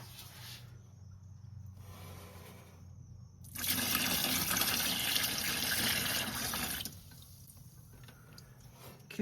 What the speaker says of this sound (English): I have right about 2 gallons in there, so I add 2 cups